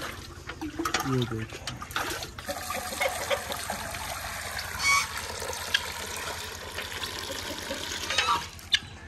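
Water trickles and splashes as it is poured from a bucket, with someone talking over it and faint bird calls in the background.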